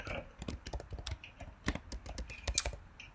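Rapid clicking keystrokes on a computer keyboard, irregular bursts of close taps with no talking.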